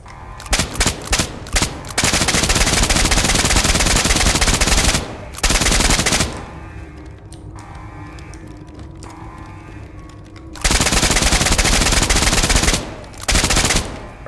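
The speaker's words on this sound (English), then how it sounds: "I recommend against burst firing the LMG" Light machine gun fire in the SCP 5k video game, loud sustained automatic bursts that start and stop repeatedly, with quieter gaps of lower rumble between the volleys.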